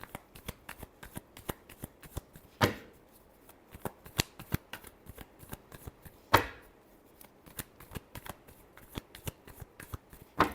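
Tarot cards being shuffled by hand in a quiet room: a long run of crisp, rapid riffling snaps and flicks, with two louder slaps of the deck, close and alone.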